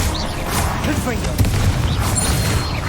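A Confringo explosive spell goes off in the wizarding game Hogwarts Legacy, a dense burst of booming, crackling combat noise that stays loud for a few seconds amid steady game sound.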